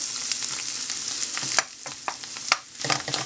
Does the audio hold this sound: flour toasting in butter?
yes